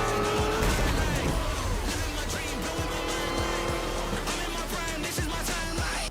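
Race cars in the Forza video game roar past with engine whine, tire squeals and sharp skid bursts, loud and continuous over a music bed.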